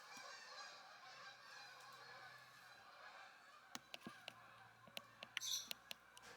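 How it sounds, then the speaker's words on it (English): Distant geese honking faintly over a low outdoor hum, with a few sharper calls and clicks near the end. "The geese keep slapping wing over the house."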